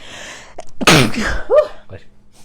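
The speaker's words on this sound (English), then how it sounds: "I gotta sneeze." A single sharp sneeze bursts out at close range, preceded by a short breathy intake, then followed by a brief vocal sound and quiet room tone.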